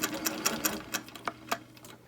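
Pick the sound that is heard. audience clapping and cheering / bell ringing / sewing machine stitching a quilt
sewing machine stitching a quilt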